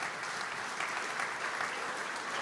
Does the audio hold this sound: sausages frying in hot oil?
no